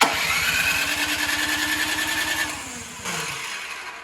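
A Craftsman snow thrower engine, choked and primed after sitting unused for over two years, cranks with a steady rapid chugging rhythm for about three seconds without catching, then winds down; a brief mechanical rattle follows.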